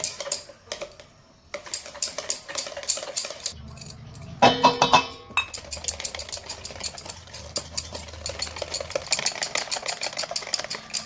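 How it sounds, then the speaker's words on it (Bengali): Whisk clattering against a bowl while beating eggs, oil and sugar for a cake batter, quick uneven scraping and tapping strokes with pauses and a louder clinking burst midway, close and fairly quiet. "চিনিটা আমি দেবো কিন্তু একদানে দেবো না আমি অল্প অল্প করে দেবো অল্প অল্প করে ফাটবো"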